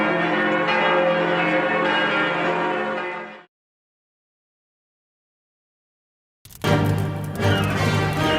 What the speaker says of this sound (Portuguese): Em 1944, os sinos de Notre-Dame soavam comemorando a libertação de Paris das mãos dos nazistas.